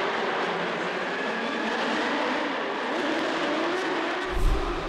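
Drift cars held on the rev limiter at a D1NZ round in Dunedin, one a Nissan S14 with Mimico Max Mufflers. A dense, continuous, loud engine roar with no let-up, as from cars seen from the trackside at a distance.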